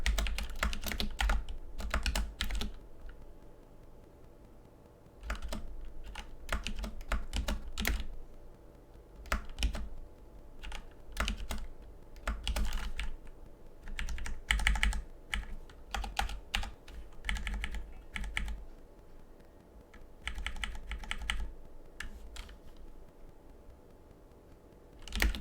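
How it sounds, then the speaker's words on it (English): Answers are typed on a computer keyboard in quick bursts of soft, close key clicks separated by short pauses, with quiet stretches between flurries and no talking. "I guess I can type my answers in here too."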